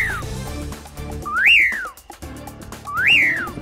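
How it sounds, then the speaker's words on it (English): Common pauraque, a nightjar of South Texas and Central and South America, gives two clear rising-then-falling whistled calls about a second and a half apart, loud and near, over a low background hum. "The common piraki is a nightjar, a night bird that can only be found in South Texas, Central and South America."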